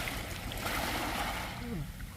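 Sea waves break on a beach in a continuous broad washing roar, close and steady, with a voice faintly present underneath.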